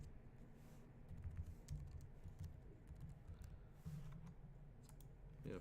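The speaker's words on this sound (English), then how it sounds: "I'm typing on a different laptop that I don't normally use" Steady light tapping of keys on a laptop keyboard, quick irregular clicks at close range in a quiet room, with no voice over them.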